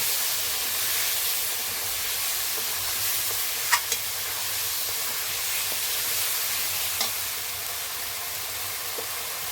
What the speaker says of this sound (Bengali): হলুদ দিয়ে দিলাম ভালো করে মশলাটা আমরা কষিয়ে নেব